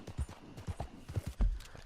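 Horse hooves clip-clopping in Red Dead Redemption 2, a quick uneven run of hoofbeats over about two seconds at moderate loudness, with no talk.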